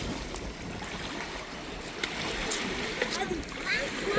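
Small, gentle sea waves at a calm Lefkada beach, a soft steady wash of water with light splashes growing slightly louder toward the end; a voice is heard faintly in places.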